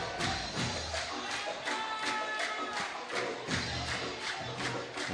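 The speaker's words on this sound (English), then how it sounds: "you can hear the crowd cheering on Riyadh" A packed stadium crowd cheers and shouts for Riyadh at a FIBA 3x3 basketball Challenger game in Neom, a steady dense roar with rhythmic swells and sharp percussive claps or bangs throughout.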